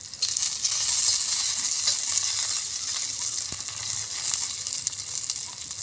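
Cumin seeds sizzle in hot oil on a traditional wood-fired chulha, a bright, steady crackling hiss that stays close and even, with no voices.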